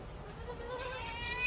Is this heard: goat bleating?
yes